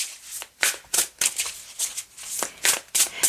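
Tarot cards being shuffled and drawn by hand at close range, a series of crisp riffling bursts in an uneven rhythm with short pauses between them.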